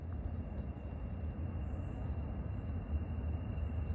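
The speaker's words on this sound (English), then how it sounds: "You can hear the train down there on the new line." A train on a rail line below in the Cascade mountains gives off a faint, distant, steady low rumble. The sound holds evenly for the whole moment with no voices.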